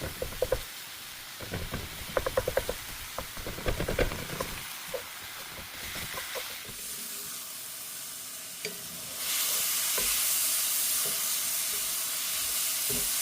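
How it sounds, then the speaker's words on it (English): Ground beef sizzling and frying in a pan as it is broken apart, a steady hiss with scattered scraping and stirring clicks early on, then a louder continuous sizzle toward the end. "break it apart, and start cooking the ground beef"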